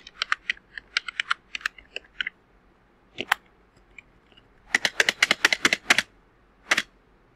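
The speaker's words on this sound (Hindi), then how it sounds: "टेक्स्ट टाइप कर देना है" Someone types on a computer keyboard, close up: a burst of quick clicky keystrokes, a short pause with a couple of isolated taps, then another rapid flurry ending in a single final key press.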